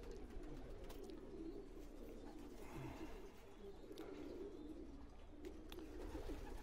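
A racing homing pigeon coos softly in a loft, low repeated throaty calls in an otherwise quiet space.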